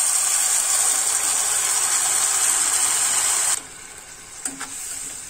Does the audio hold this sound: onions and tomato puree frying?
yes